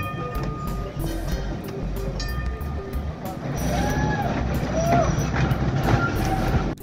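Baltimore streetcar 4533 runs at a streetcar museum, a rumbling, rattling rail car with squeals and clatter building louder as it moves, heard under someone talking.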